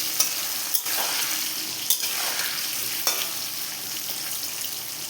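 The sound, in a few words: potatoes frying in a pan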